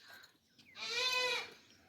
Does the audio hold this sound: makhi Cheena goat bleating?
yes